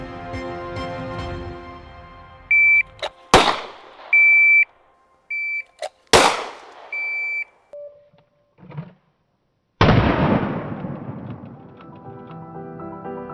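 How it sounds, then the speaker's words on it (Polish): A custom pistol drawn from a holster and fired with factory ammunition: electronic shot-timer beeps sound between three sharp, loud bangs, each with a short ringing decay, and no talking. "84 setne sekundy to czas liczony od dobycia broni z kabury aż do oddania pierwszego strzału."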